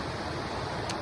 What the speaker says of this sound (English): listen to the water and tap into the water behind me